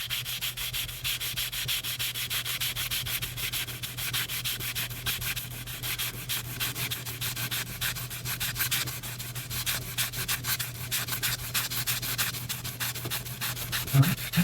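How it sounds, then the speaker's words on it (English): Steady back-and-forth rubbing of 320 grit sandpaper on wood during archtop guitar work, a continuous close scratchy hiss with a low hum underneath and no pauses. "And from here it's sandpaper. Oh, no, we do have some 320."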